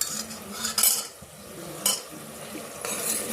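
A spoon clinks against a pot as wheat flour goes into melted ghee, giving a few light metallic taps and scrapes over a soft sizzle, fairly quiet and close.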